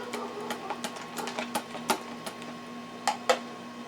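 Electric hand mixer beating butter, sugar and egg yolks in a bowl, whirring under a run of sharp, irregular ticks and clacks as the beaters knock against the bowl.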